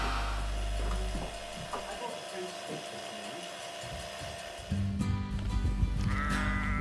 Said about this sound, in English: Here are some of our glorious Wensleydale sheep.